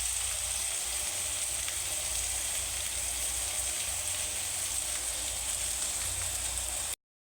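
Hotdogs fry with pancit canton in a pan, giving a steady, even sizzle that holds without a break and then cuts off abruptly.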